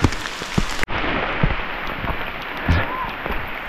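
Heavy rain hisses steadily and loudly on surfaces in Niseko, Hokkaido, with a dense close wash of drops and a few sharper knocks throughout.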